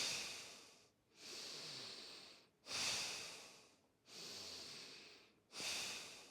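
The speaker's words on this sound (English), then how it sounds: "we'll be breathing in and out through the nose" Steady nasal breathing in and out during a breathwork practice, four long rushing breaths with sharp onsets and short gaps, close and even, no talking.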